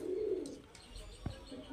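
A Giribaz pigeon gives a soft, low coo that swells briefly and then fades, heard up close in a quiet spot, followed by a few faint clicks and a single thump.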